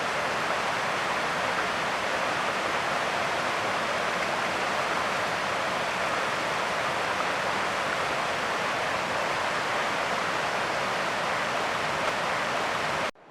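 Fast-flowing water of the Ričina river rushes in a steady, unbroken broadband wash, close and fairly loud, holding an even level throughout with no voices over it.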